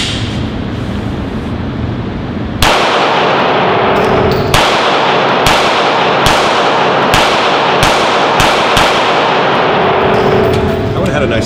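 Several sharp gunshots from an H&K VP9 9mm pistol fired on a range, spaced irregularly about a second apart over a loud steady background roar.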